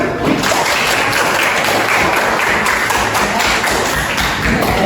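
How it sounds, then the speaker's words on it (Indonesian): Steady, dense applause from a crowd of hands clapping, loud and continuous throughout with no voices standing out. "Tepuk tangan."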